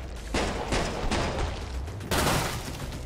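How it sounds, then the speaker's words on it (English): Burst-fire gunshots from a weapon in the video game Killing Floor 2: four loud, sharp bursts, three closely spaced and then one after a short pause, over constant game noise and with no voices. "this is a burst shot"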